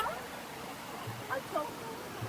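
A mountain stream rushes in a steady, moderate hiss of flowing water on a muddy hillside walk, with brief voice sounds above it.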